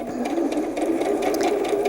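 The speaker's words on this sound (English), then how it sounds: "just sew all the way to the bottom" A sewing machine stitches quilt fabric triangles, a quick steady whirring run of needle strokes heard up close with no talk.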